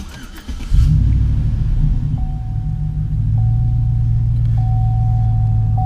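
A stock 5.3-litre 2009 GMC Sierra pickup cranks and starts, then settles into a loud, steady, rumbling idle close by, with a faint intermittent electronic beep in the background.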